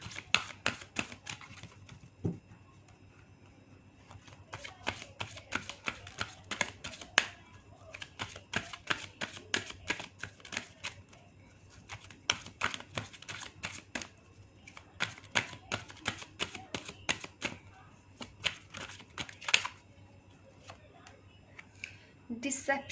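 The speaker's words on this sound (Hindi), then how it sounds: "और कार्ड्स मैं निकाल लेती हूँ आपके लिए" Tarot cards shuffled and drawn, a run of rapid crisp snaps and flicks coming in uneven bursts across the whole stretch, close and fairly quiet, with a steady low hum underneath.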